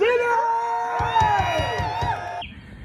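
A large crowd of fans at a party in New York City cheers and whoops loudly, a dense roar with rhythmic chant-like pulses in the middle, dropping off sharply near the end.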